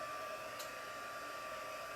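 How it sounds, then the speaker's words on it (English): A heat gun blows steadily to dry chalk paint on a tin surface, giving a continuous, even whooshing hum that stays unchanged throughout with no talk. "because this is a heat gun. This heat gun gets very hot"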